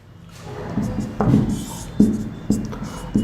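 Writing on a board during a class 11 chemistry lesson on the boron family: close, scratchy strokes come in short repeated bursts that grow louder, with no talk over them.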